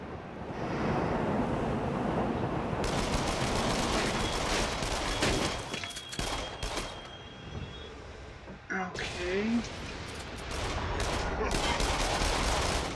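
Gunfire in the VR shooter game Until Dawn: Rush of Blood. Loud rapid bursts and fusillades of shots, dense and continuous, mixed with game effects, while a player talks over it.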